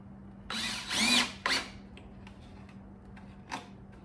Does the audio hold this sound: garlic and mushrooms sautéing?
no